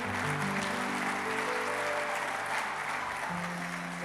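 Church congregation applauding to welcome a member back, a broad sustained wash of clapping filling the room, with organ or keyboard chords sounding beneath it throughout.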